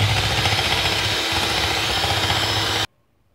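Electric mixer beating chocolate cake batter, a loud, close motor whir running steadily with a slight churning wobble before cutting off abruptly, then near silence.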